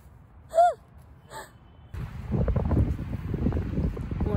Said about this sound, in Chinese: 因为风很大。